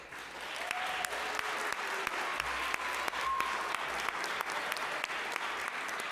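Audience members at a City of Milwaukee birthday celebration applaud with steady, moderately distant clapping, a few sharper claps popping out above the even wash of hands.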